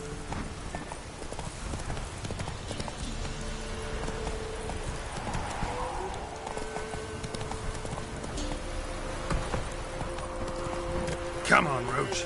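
Roach the horse gallops in The Witcher 3, rhythmic hoofbeats thudding steadily at close range beneath an overlaid voice, with a whinny near the end.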